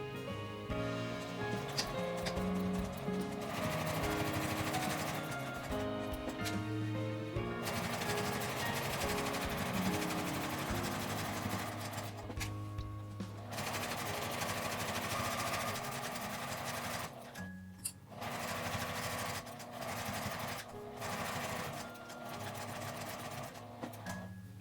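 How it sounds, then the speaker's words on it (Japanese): A domestic sewing machine stitches fabric pieces for a small wallet along a one-centimetre seam allowance, running in steady close-up bursts of rapid mechanical whirring broken by short pauses. "返し口を開けて1センチの縫い代で縫います。"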